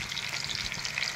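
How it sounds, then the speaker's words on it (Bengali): Slices of sweet pumpkin fry in a pan with a steady, close sizzle and faint stirring scrapes, continuous throughout without any speech. "এটা কি? মিষ্টি কুমড়া ভাজা।"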